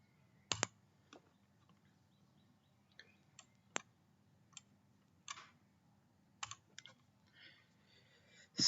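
Someone types the command cmd on a computer keyboard, sparse separate key clicks scattered irregularly, quiet and close, ending in a louder burst.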